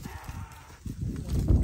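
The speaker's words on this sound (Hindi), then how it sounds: "ये सारी सुई हुई भेड़ है" Sheep on a large modern farm in Pakistan with an elevated pellet floor, a flock of ewes with lambs, bleating and milling about in a dense continuous jumble of animal noise, getting louder toward the end.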